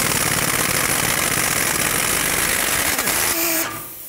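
A pneumatic impact gun on the front strut bolts of a 2007-2010 Chrysler Sebring gives a loud, continuous buzzing rattle for about three and a half seconds, then a brief higher whine as it winds down and stops.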